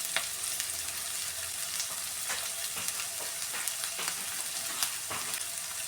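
Chopped shallots frying in hot oil for a Kerala-style prawn roast, a steady close sizzle and crackle running unbroken with faint stirring clicks, no voices.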